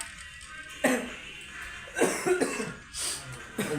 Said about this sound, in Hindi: खांसी दोस्तों हो रहा है, आजकल मौसम चेंज हुआ है इसके चलते।